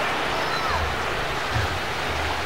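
Surf rolls continuously onto a beach near Batu Malingkundang, a steady broad wash of wave noise with low wind rumble and no speech.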